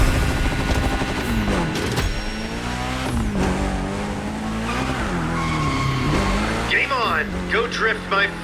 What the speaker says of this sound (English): Can you get all steezy with your slide? And how long can you maintain your drift?